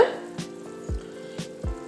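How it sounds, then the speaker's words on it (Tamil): A pot of vegetable soup bubbles softly on the stove, with a few low blooping pops at irregular intervals over a quiet simmering hiss. "இப்போது காய் நல்லா கொதிக்குது."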